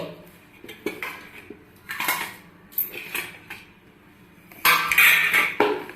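A metal utensil scrapes stuck rice flour batter off a plate with short, close scrapes and clinks at an irregular rhythm, ending in a louder cluster of scraping.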